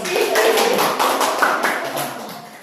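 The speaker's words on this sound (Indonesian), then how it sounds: "Bisa tepuk tangan teman-teman." Classmates in a school classroom clap their hands together, a brief burst of dense, close clapping with voices mixed in.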